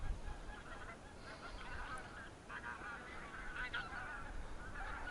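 A flock of geese circling overhead during spring flood, honking continuously and faintly at a distance over steady outdoor background noise.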